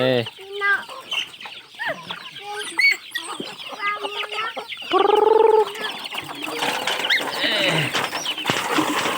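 Several chickens cluck and squawk close by in busy, irregular bursts, with one loud drawn-out call midway and a noisy flurry near the end.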